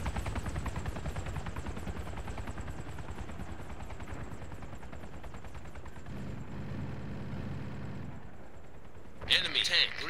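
Sustained rapid gunfire and helicopter rotor thumping in a realistic military video game, loud and continuous, with a radio-style voice talking over it and a sharp burst of noise near the end.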